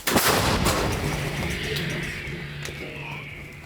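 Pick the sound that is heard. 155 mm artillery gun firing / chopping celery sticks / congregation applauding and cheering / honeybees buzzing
155 mm artillery gun firing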